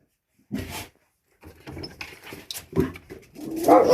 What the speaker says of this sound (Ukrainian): А вона почала гавкати.